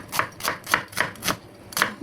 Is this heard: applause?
no